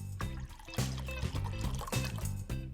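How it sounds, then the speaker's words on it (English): Raw unfiltered apple cider vinegar poured into a small pan that already holds medium dry cider, a steady splashing stream with slight pulses, fairly close, with no talking. "And on top of that, I pour 400 millilitres of raw unfiltered apple"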